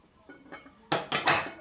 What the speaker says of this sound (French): On va bien mélanger tout ça ensemble.